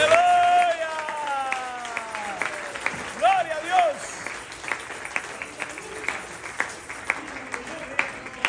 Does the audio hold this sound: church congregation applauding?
yes